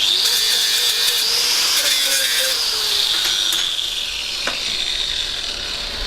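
Tack welding a 45-degree fit-up, a loud steady electric sizzle and crackle of the arc running for several seconds, close up, easing slightly toward the end, no talking.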